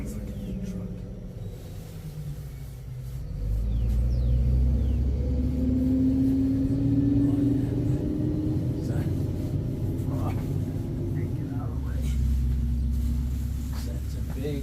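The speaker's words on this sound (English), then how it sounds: "That's a big white trash truck right there." A big white trash truck drives past a baseball dugout during heavy rain, a loud low rumble that swells after a few seconds and stays strong, with the steady hiss of rain underneath.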